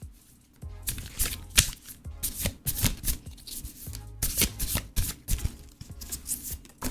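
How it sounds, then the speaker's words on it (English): A deck of tarot cards being shuffled close to the mic, with repeated crisp riffling bursts and short pauses between them and no talking. "Let's test how the mic picks up the shuffling."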